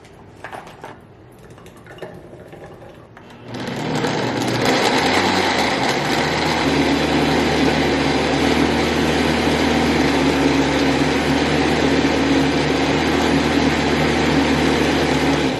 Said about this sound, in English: I'll have the strawberries and the blueberries blending in there while I get this orange all chopped up.